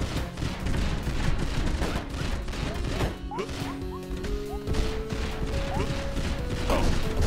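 Bursts of gunfire from the Dead Man's Gun in a roguelike video game, dense rapid shots mixed with crashing impacts and game effects, loud and continuous throughout with tonal sound effects chiming in midway.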